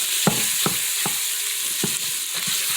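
Sausage and chicken sizzling in an Instant Pot, a steady bright hiss of frying broken by six or so distinct scraping stirs of a utensil spaced roughly every half second, close and clear with no talk.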